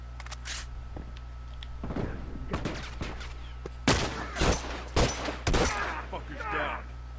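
Semi-automatic gunfire in The Last of Us Remastered, with several sharp shots in quick bursts in the second half over a low steady hum and quiet game sounds.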